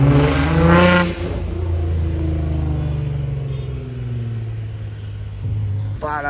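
Loud Nissan GT-R with a Liberty Walk body kit revving outdoors in Deauville, a deep, steady engine drone that holds for several seconds before its pitch climbs sharply near the end.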